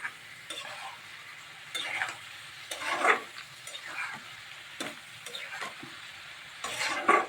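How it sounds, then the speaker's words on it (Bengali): Bottle gourd pieces and fried lentil dumplings (bori) frying together in a pan, with a low sizzle broken by intermittent scraping and tapping of a spatula as they are stirred, fairly close and quiet. "এখন আর একটু ভাজা বড়ি দিয়ে একটু ভেজে নিচ্ছি।"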